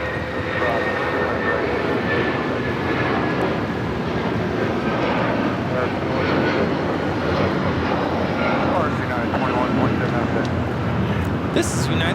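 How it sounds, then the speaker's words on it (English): A United Airlines Boeing 757-200 takes off from Los Angeles bound for Newark, its engines a steady, loud roar that holds throughout with faint higher whine, while a person talks over it. "This is United Airlines 2127 taking off to Newark on the 757-200."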